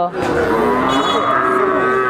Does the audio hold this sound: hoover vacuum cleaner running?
no